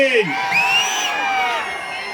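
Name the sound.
political rally crowd cheering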